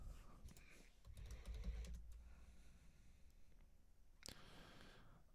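Computer keyboard typing during a hacking session, faint and low in level, with scattered key clicks over a steady background hum and no talking.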